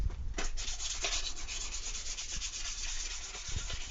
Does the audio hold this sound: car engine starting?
no